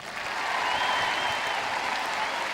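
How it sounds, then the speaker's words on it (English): Steady applause from a tennis crowd at the Eastbourne women's final prize presentation for the runner-up, a dense continuous clapping that holds at full strength throughout with no talk over it. "So a great cheer for Natalie, who's had a marvellous week down here."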